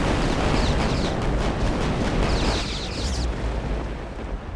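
Naval guns bombarding cruisers from afar in the Victory At Sea Pacific game, a dense continuous rumble of overlapping booms and blasts, loud and close throughout, with a hissing crackle on top and no voices.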